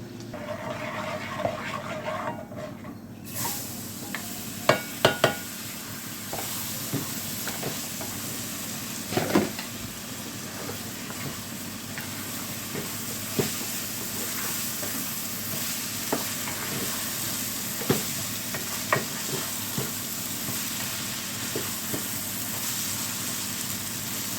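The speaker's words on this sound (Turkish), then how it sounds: "Şöyle güzelce şehriyelerim kızarsın." Steady frying sizzle of vermicelli in a pan, with occasional scraping and stirring clicks; no talking.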